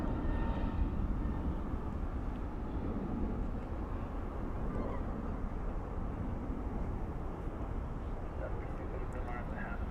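A Skywest CRJ 700 regional jet departing Dallas Fort Worth at night for St. Louis produces a steady, moderately loud engine rumble that swells slightly at the start, with voices in the background.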